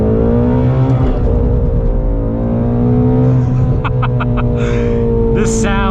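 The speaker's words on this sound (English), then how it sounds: "Just listen to that engine." A Ford Shelby GT350 Mustang's flat-plane V8 drones loudly from close by, the engine note holding and rising under acceleration, with a voice talking over it.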